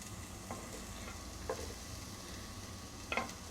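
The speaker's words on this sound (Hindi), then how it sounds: "प्याज को हल्का हल्का फ्राई कर लेंगे।" Onions fry in about two tablespoons of oil in a pan, with a soft continuous sizzle and a few quick scraping stirs at intervals, close and quiet, with no voices.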